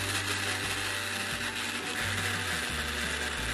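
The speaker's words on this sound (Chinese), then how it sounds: "我们把它放进搅拌机里" A blender whirs loudly and steadily, chopping shallots with a little oil; the motor hum pulses in pitch as the blades churn the pieces, heard up close without any voices.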